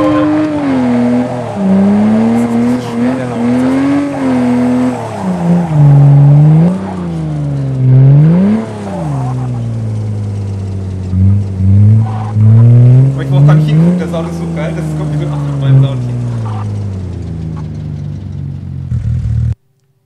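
A BMW six-cylinder car engine revs repeatedly at a drift event, its pitch sweeping up and down in loud, close bursts before settling into a steady drone that cuts off abruptly.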